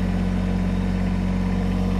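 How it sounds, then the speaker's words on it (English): Kubota BX-80 series compact tractor engine idling steadily and close as the tractor backs away from its detached Swift-Tach loader, a constant low mechanical drone with no variation. "I can now back the tractor away from the loader"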